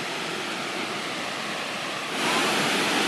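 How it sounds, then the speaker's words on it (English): Water rushes over the Deer Creek Dam with its floodgates at the historic Eden Mill in Maryland, a steady, loud, close roar of broadband noise that swells slightly louder near the end, with no talking. "And here is the Deer Creek Dam,"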